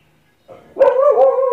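A dog barks and yelps close by: a soft onset, then a loud, sustained, tonal bark-whine lasting about a second.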